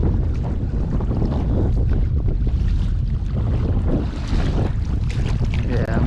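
Strong wind buffets the microphone while a kayak crosses choppy water off Boca Grande, a steady loud roar of gusts and slapping water filling the whole stretch without any talking.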